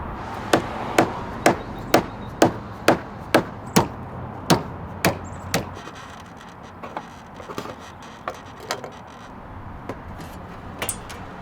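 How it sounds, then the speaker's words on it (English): A hammer strikes a metal roof sheet to bend it around the edge, giving about a dozen sharp, evenly spaced bangs close by. Softer, scattered taps follow after a pause. "continue to just go along the side here with the hammer and continue to bend the metal around the edge"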